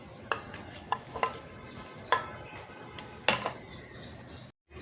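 Watermelon pieces drop into a juicer blender jug, giving several sharp, separate thuds and clatters over a soft background hiss.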